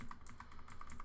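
Rapid clicking of computer keys being typed, a steady run of close, crisp keystrokes with no voices.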